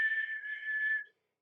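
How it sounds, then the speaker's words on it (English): A railway engine whistle blows once, a clear steady high tone lasting about a second before cutting off, with nothing else heard. "Just then the whistle blew"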